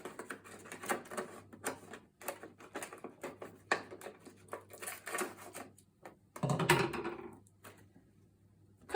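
Paper pages for a simple children's book being cut, with a run of quick crisp snips and rustles close by and a louder scrape of paper near the end, no talking.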